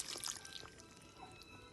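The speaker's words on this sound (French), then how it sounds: "je vais rajouter de l'eau" Water poured into a pot of smoked chicken for broth, a faint, brief, steady splashing pour heard close and alone.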